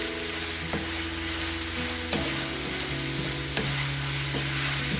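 Minced pork and holy basil stir-fry in a hot pan with a loud, continuous sizzle and occasional spatula clacks against the metal, close up and without any talking.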